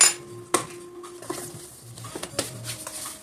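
A tablespoon of flax seeds going into a glass of iced coffee, heard as a few light clinks of spoon against glass and soft pattering of seeds, close and moderately loud with no talk.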